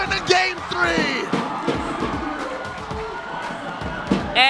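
Esports arena crowd at a Mobile Legends match roars in a broad, swelling wash of shouts and whoops, with excited commentators talking over it the whole time.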